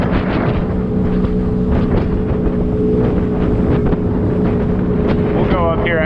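A motorboat cruises steadily across the water on a full tank of gas, its motor droning low and constant under heavy wind buffeting the microphone, with brief voices near the end.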